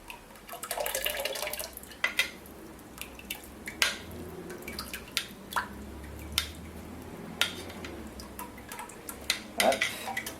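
Cooled Martinique thyme syrup poured through a filter, with a soft trickle at first and then sparse, irregular drips and small clinks close up in a quiet kitchen.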